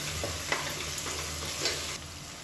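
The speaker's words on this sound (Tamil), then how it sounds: "இது எல்லாமே நல்லா பொரியுது" Onions and chopped green chillies fry in a pan for chicken white gravy, a steady close sizzle with a few soft stirring scrapes and no talk.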